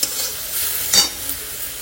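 Spices and coriander leaves fry in oil with freshly added grated ginger, giving a brief close sizzle with one sharp stirring scrape in the middle and no voices.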